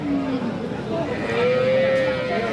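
Sahiwal cattle at the Aftabganj livestock market give a drawn-out, wavering moo over crowd murmur and nearby talking. The call is moderately close and rises in pitch toward the end.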